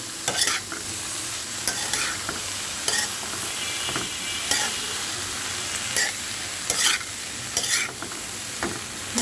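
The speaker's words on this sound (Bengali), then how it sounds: "ডিম দিয়ে করলা ভাজি করছি" Bitter gourd fries with boal fish roe in a pan under a steady sizzle, and a utensil stirs and scrapes the pan every second or so.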